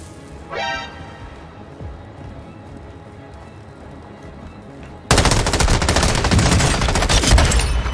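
Gunfire crackles in the battle royale shooter Warzone: a few scattered shots during quieter movement, then a sudden dense burst of rapid automatic fire that keeps on loud to the end.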